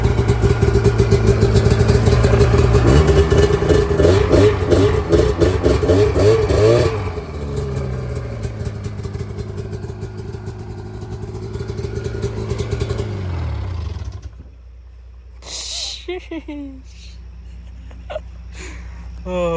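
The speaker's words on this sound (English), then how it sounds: "And it's an Arctic Cat. It'll start first or second pull." An Arctic Cat Sabercat snowmobile engine revs loudly up close, a raspy two-stroke drone rising and falling, then it drops back to a lumpy idle and cuts out.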